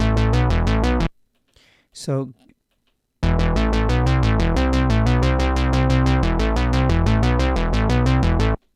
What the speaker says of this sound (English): I'm gonna use the Model D because this is the synth app that I demoed earlier.